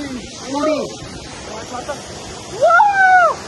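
A river flows with a steady, soft rushing wash under the voices of people talking nearby at the water's edge.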